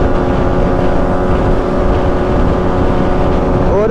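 Bajaj Pulsar NS 200 and Yamaha MT-15 motorcycles in a drag race, heard as a loud, steady engine drone at high revs. The pitch bends upward sharply at the end.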